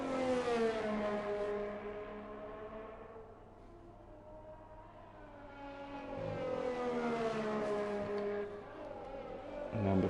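A Formula 1 car on an outlap at the Netherlands round in the F1 2020 game on PS4, its high-pitched engine revving up, easing off through a slower stretch, then climbing hard again, with no talk.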